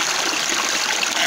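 Water poured out of a container beside a stream at Coker Creek Falls during gold prospecting: a close, loud, continuous rushing splash lasting about a second.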